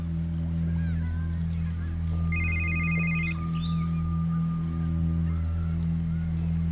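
A telephone rings in one short electronic trill burst over a steady low hum of background noise, with no voices during the ring.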